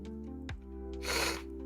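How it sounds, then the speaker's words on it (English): One short nasal sniffle cuts through a low steady hum, a quick airy intake lasting under half a second. "Oh, sniffle."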